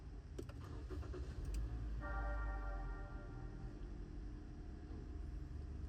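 A Toyota Veloz with electronic parking brake starts up after a rear brake pad job: a short cranking whir, then the engine catches into a steady low idle rumble, close by, with a faint chime running briefly.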